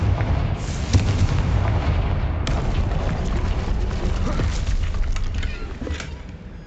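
A Confringo fire spell explodes in Hogwarts Legacy, a loud, dense barrage of booming blasts and crackling bursts that rolls on steadily for several seconds before easing off.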